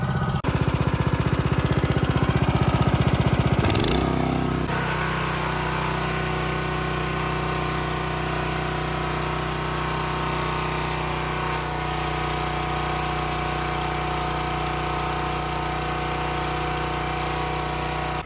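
Champion petrol-powered jet wash fed from a wheelie bin water tank, a loud buzzing engine that drops in pitch after a few seconds and settles into a steady, rattling idle drone for the rest.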